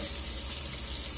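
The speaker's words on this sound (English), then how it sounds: "because I have the hot water running and now I can just go like this and I can rinse it" Hot water from a kitchen tap runs steadily into a sink while dishes are rinsed, a close, constant hiss and gush with no pause and no talking.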